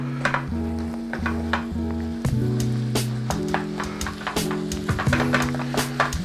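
Ground turkey with taco seasoning sizzling in a pan over low heat, a steady close crackle and hiss with spatula scrapes and stirs, while soft background music plays beneath and no one talks.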